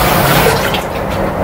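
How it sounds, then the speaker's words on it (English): Hot water runs steadily into the glass jar of an IKEA UPPHETTA French press as it is rinsed, a close, continuous splashing hiss with no voices. "rinsing it with some water"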